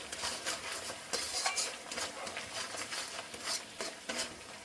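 Turmeric and Kashmiri chili powder frying in a masala, a soft sizzle under repeated spoon scrapes and stirring strokes against the pan, close and steady.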